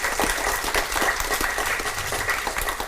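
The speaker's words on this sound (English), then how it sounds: "Huge round of applause to them." Steady, dense applause from a conference audience, sustained at an even level for the full three seconds with no voices standing out.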